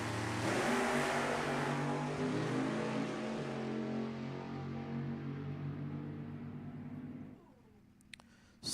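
Pair of 7-0 Pro nostalgia drag race cars roaring off the line at an NHRA Heritage Series Nostalgia Reunion, a loud sustained engine blare with harmonic drone that holds for several seconds, then cuts off and fades into the distance.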